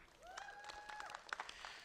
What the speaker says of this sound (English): let's give a round of applause to our team